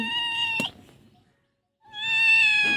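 A pet cat at feeding time, with fish and cat food set out, gives two clear, close meows separated by a short silence.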